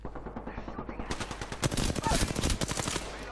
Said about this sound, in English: And I can hear the Watson get shot at.